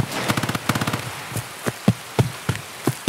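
A PPSh submachine gun firing in the video game Escape from Tarkov: a rapid rattling burst, then a series of separate, evenly spaced shots, sharp and fairly close.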